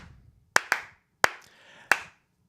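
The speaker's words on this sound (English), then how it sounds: "Slow clap." Four sharp, deliberate hand claps spaced out slowly and sarcastically over a couple of seconds, close and distinct against a quiet room.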